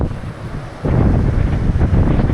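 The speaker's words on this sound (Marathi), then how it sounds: "समोरच्या लाटा येतात जेवढ्या तेवढ्या मी पाहत होतो" Ocean waves breaking at Alibaug beach, a continuous rushing surf that swells louder after the first second, mixed with heavy wind buffeting close to the microphone.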